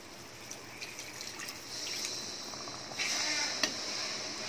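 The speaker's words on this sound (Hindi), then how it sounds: "अब इसमें 1/2 कप पानी ऐड करेंगे।" Half a cup of water is poured into a pan of kadai paneer, giving a steady splashing trickle and gush for several seconds, with light kitchen clatter and no talk.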